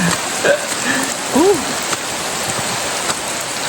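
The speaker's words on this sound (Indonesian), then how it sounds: "hujan deras tapi enak, nggak ada petir gitu" Heavy rain falls steadily at Situ Rawa Gede in Cisadon, a continuous dense hiss with a brief bird-like chirp rising above it.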